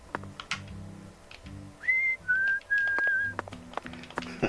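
Whistled tune from the video game Deadly Premonition 2, three clear sustained notes in a short melodic phrase, standing out over soft game background sounds and low music.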